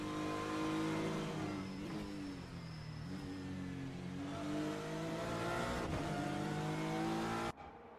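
GT3 race cars in a sim-racing game lap Road Atlanta, their engines droning loud and steady with rising revs and layered exhaust notes as the pack heads down the backstretch after turn 7, cutting off abruptly near the end.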